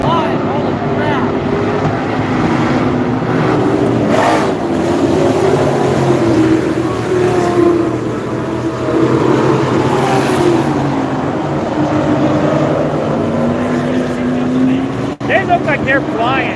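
Super trucks race at Vado Speedway, their engines giving a loud, continuous roar with rising and falling pitch as they pass close by, heard beneath excited talking from spectators.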